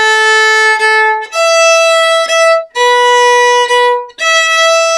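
Viola playing a bowed melody with each note sounded twice in a long-short pattern, close and clear, with no talking.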